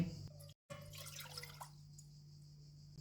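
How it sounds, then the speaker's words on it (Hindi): Water is poured into a cooking pan to start a rice flour paratha dough, a short splashing pour near the mic that breaks off briefly and then settles into a faint trickle and drip. "पैन में 1 कप पानी डालेंगे"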